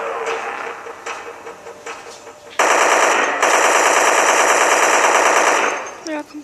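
Rapid automatic gunfire from an auto-shooting weapon in the sci-fi video game Dead Effect, loud and continuous in sustained bursts, with quieter game sounds and faint voice before the firing kicks in.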